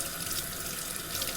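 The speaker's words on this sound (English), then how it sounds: "I'm washing my hands." Tap water runs steadily into a kitchen sink while hands are washed, a loud, close, continuous hiss and splash with no pauses throughout.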